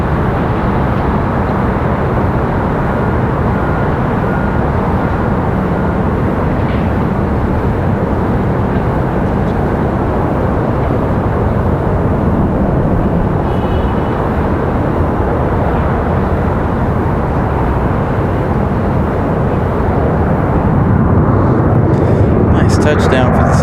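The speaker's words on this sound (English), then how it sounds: "Touchdown for the 737." A Boeing 737-800 arriving from Dallas lands at Raleigh-Durham with a loud, continuous roar that fills the whole span. The roar stays dense and steady and turns a little harsher near the end.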